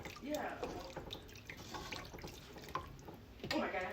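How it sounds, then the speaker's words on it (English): Potatoes going into a pot of Zuppa Toscana soup: wet, splashing and sloshing sounds with a few louder plops, near and moderately quiet, with a voice speaking at times. "I'll just add all the taters."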